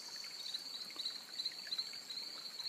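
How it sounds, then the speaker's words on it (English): Frogs call in woodland at dusk as the light fades, a steady, high continuous chorus that hums on without break and stays faint and distant, with no voices. "At the moment, all we can hear is the frogs."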